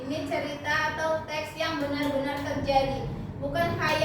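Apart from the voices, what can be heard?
No everyday noises stand out.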